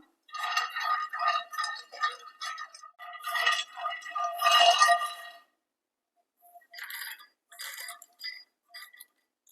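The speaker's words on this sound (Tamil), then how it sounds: "அடுத்ததாக நிலக்கடலை வறுத்து எடுத்துக்கலாம்" Peanuts dry roasting in a pan for chutney powder, heard as bursts of light rattling and clinking as the nuts are tossed, a longer busy stretch, a pause, then a few shorter rattles, close and clear with no voices.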